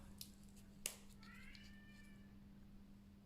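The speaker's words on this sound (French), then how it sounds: "Le chat que vous entendez, c'est Snow, ma petite nouille, qui est dans la véranda et qui voudrait sortir" Cat named Snow on an enclosed veranda, giving one drawn-out, rising and falling meow after a small click, faint and a little distant over a steady low electrical hum.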